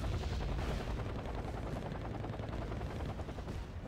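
Missile strike on an Apache helicopter in the strategy game Wargame Red Dragon, a dense continuous roar of explosive, gunfire-like battle noise filling the whole stretch without talking.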